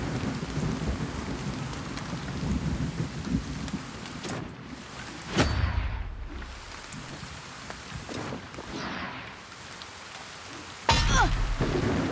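Steady rain pours through a thunderstorm in the fantasy strategy game WarTales, broken by several sharp lightning cracks and rumbling thunder claps, the loudest near the middle and a heavy strike at the end.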